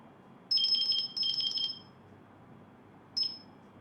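A phone rings for an incoming call with two bright electronic trills in quick succession, followed after a pause by a short final chirp, clear over a quiet room.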